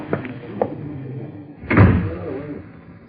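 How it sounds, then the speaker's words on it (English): A door closing as a radio drama sound effect: two light clicks of the handle, then a solid, heavy thud of the door shutting at close range, followed by a short fading resonance. "Close the door, Crow."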